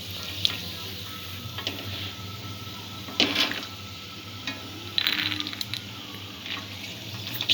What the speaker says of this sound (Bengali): নেব, ভাজা হয়ে গেছে বাদামটা